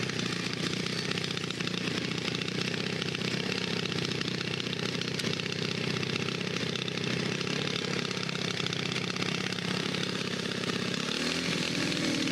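An old motorcycle engine, started after sitting abandoned, runs with a steady buzzing drone throughout and a slight shift in tone near the end, close and continuous with no talking.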